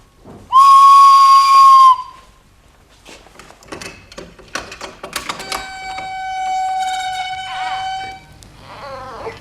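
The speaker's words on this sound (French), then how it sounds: "un simple coup de sifflet va indiquer au chien qu'il ne doit pas toucher à votre fils" A loud, sustained whistle blast, used to command a dog, opens, followed by clattering sounds and a few shorter wavering whistle tones.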